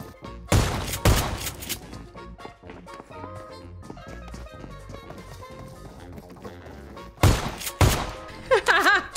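Two loud bursts of shotgun blasts ring out in PUBG Mobile, one near the start and another near the end, with quieter footsteps, thuds and movement sounds in between.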